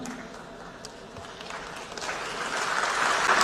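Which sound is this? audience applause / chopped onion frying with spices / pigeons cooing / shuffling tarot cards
audience applause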